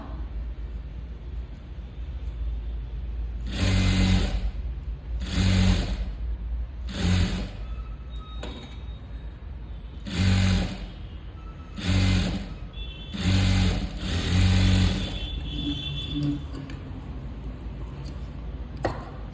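Sewing machine stitching a sleeve, about nine short bursts of rapid mechanical whirring and needle clatter with brief quiet pauses between them, close and loud.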